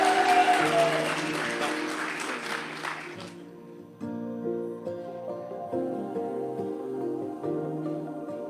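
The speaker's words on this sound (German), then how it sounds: "Applaus." Applause from a church congregation during a special service, a dense crowd clatter for about three seconds that fades out, leaving organ or keyboard music playing on alone.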